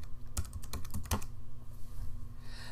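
Someone types a search into a computer keyboard, producing a quick burst of sharp key clicks followed by a few scattered taps. The keys sound close and fairly loud, with no talking.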